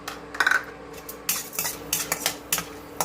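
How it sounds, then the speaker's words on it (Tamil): Peanuts and lentils dry-roasting in a pan, with a spatula scraping and clinking against the metal in irregular bursts, fairly close and moderately quiet. "பருப்பு நல்லா வறுபட்டுட்டு வருது"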